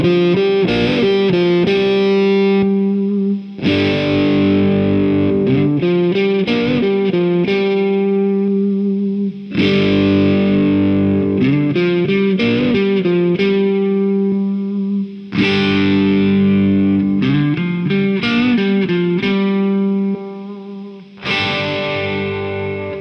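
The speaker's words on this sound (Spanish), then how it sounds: "vamos a ver qué sonidos podemos obtener tocando el switch de baritone" A 1969 Gibson ES-355 electric guitar played through its baritone switch settings, with loud, effects-laden phrases of chords and runs repeating in several passages separated by short gaps.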